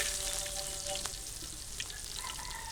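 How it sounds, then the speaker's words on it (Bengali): Chopped onion frying in oil on a tawa, a steady close sizzle with faint crackles, moderately quiet and heard alone. "পাকার জন্য আমি তাওয়া তেল দিয়ে নিলাম দিয়ে দিলাম পেঁয়াজ কুচি"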